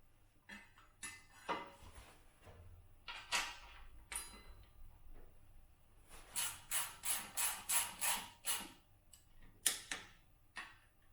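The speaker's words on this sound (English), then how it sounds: "Torque the front caliper bolts up to 30 Nm." A torque wrench tightens the front brake caliper bolts on a Mutt 125 motorcycle, with quiet scattered clicks followed by a quick even run of about ten sharp ratchet clicks and a few last taps.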